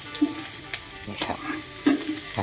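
Pork meatballs fry in a pan with bamboo shoots, hissing and sizzling steadily while a utensil stirs and scrapes in several short clacks.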